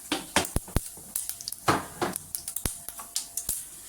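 Quiet, irregular sharp pops and crackles of mustard seeds and cumin spluttering in hot oil, scattered unevenly with brief gaps between them.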